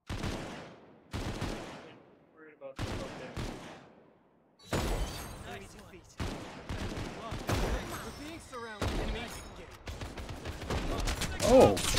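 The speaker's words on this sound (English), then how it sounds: "Oh, I just got shot from the back." Bursts of gunfire ring out in Final Fantasy VII The First Soldier, a battle royale game, with repeated sharp volleys and rapid shots, some clustered and loud, mixed with game effects and players talking throughout.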